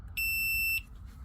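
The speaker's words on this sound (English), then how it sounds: "if I put it on these two poles of the fuse and it bleeps, then the fuse is good" A multimeter on continuity setting gives a single steady electronic beep, clean and close, lasting just over half a second while its probes touch the two poles of a fuse.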